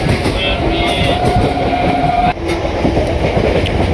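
A local train running on its tracks from Howrah toward Bandel, a steady loud rumble of wheels and carriage filling the whole stretch, with background chatter from passengers and a brief dip in level midway.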